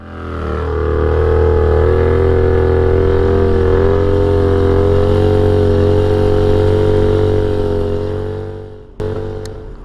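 A Harley-Davidson Dyna motorcycle with saddlebags fitted rumbles steadily and loudly up close while riding, its engine drone holding even for about nine seconds before briefly cutting off and resuming.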